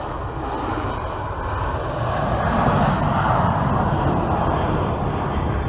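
Boeing 737-700 jet engines spool up for takeoff at Kassel Airport, a loud, steady roar that swells and holds close by.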